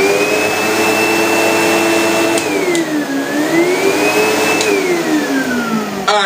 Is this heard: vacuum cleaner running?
yes